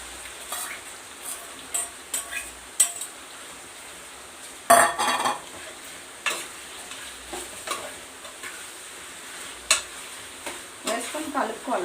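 Chicken and onions stirred in a pan, scattered scrapes and clinks of a utensil against the pan over a faint frying hiss, with one louder clatter partway through.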